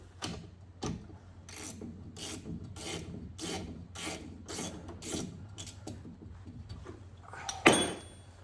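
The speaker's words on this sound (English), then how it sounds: "Ratchet." A hand ratchet clicking in a steady run of quick strokes on a BMW E46 M3 differential, close and moderately loud, ending with a sharper metallic clank.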